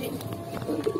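Pigeons coo softly in a backyard loft, a few low murmuring calls rising over a steady room hum, fairly close and quiet.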